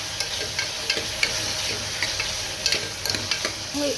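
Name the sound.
sautéing tomatoes in a pan for moong dal sambar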